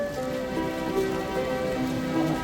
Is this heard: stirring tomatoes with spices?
no